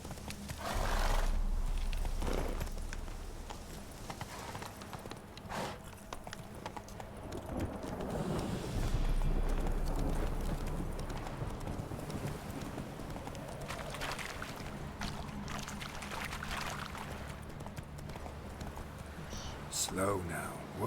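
In The Witcher 3: Wild Hunt, Geralt's horse Roach gallops with rhythmic hoofbeats and occasional snorts over game ambience. Someone talks over the sound at intervals.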